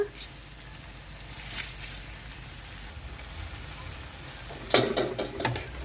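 Chicken fries with slit green chilies and curry leaves for a restaurant-style chicken fry, a low steady sizzle broken by scraping stirs and a few sharp crackles, while a voice talks over it.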